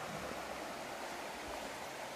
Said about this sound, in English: lovely little river.